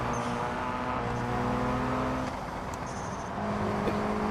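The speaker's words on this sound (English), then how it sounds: "Let me know if the cars are too loud." Cars racing in the BeamNG driving game, a steady engine drone with layered droning tones and faint squeals, continuous and fairly loud throughout without talk.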